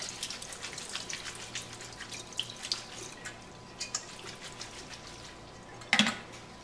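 Water draining and dripping from strained nokedli dumplings in scattered irregular drops and trickles, mostly quiet, with a louder splash near the end.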